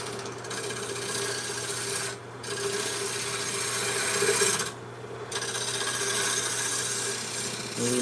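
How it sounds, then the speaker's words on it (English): A small spindle gouge cuts wood on a lathe, giving a steady close rasping scrape over the motor's low hum, with two brief pauses where the tool lifts off the spinning workpiece. "So let me use my small spindle gouge here"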